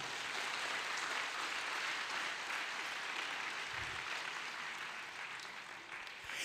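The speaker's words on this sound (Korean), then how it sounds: "우리 앞에 하나님께 박수로 영광 올립시다." A congregation applauds together at a church summer retreat service, a broad continuous wash of many hands clapping that holds steady for several seconds and fades slightly near the end, heard at moderate distance without speech.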